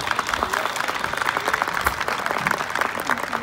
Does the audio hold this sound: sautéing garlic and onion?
no